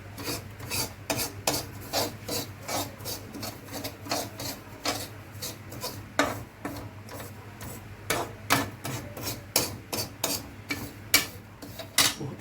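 Dry fruits lightly roasting in a pan for protein ladoos, stirred with a utensil: steady, repeated dry scraping and rattling strokes in an uneven rhythm, close and fairly loud, no talking.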